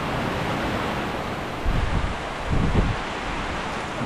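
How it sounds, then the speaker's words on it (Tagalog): Wind-driven rain falls outdoors around a tent: a steady, loud broadband rush with two heavier gusts swelling midway, and no voices. "yung takbo ng ulan"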